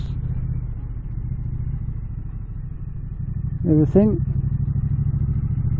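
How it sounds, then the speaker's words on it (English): A Triumph Street Cup motorcycle with stock exhausts and a parallel-twin engine idles steadily with a low, even thrum, then rises in one short rev before settling again. Someone talks over it briefly. "not mega loud, which is fine. Just got a nice tone to it"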